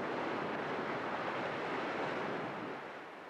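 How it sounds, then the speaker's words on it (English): Ocean waves wash sand onto a beach in a loud, continuous wash of surf that fills the stretch evenly, then eases slightly toward the end, with no voices. "The waves wash it up on the beach."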